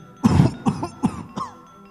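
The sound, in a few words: coughing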